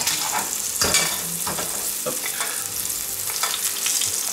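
Food fries in a pan over a lowered flame for a stuffed turkey roll with cep sauce, a steady close sizzle and crackle with a few stirring scrapes and no voices.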